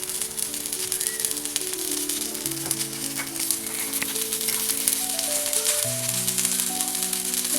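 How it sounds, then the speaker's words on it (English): Tikki patties frying in ghee give off a steady, close, hissing sizzle throughout, with background music playing. "So we need to fry it in the ghee until the tikki will be tasting really yum."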